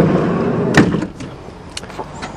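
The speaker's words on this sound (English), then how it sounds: "Dual sliding doors too." Sliding door of an extended van, a close thud and latch clunk followed by a few lighter mechanical knocks and rattles, loud against a quiet background.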